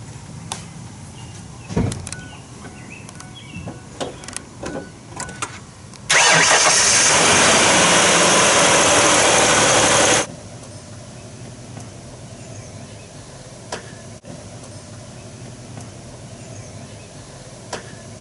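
A car engine, powered by a battery holding just over 4 volts, cranks and starts in one loud, steady four-second burst, after which the surroundings fall back to quiet low background noise.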